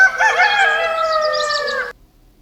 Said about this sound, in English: A rooster makes this sound.